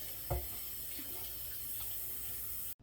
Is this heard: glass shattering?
no